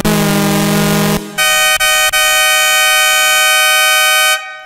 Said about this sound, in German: Das ist eine schöne Hupe.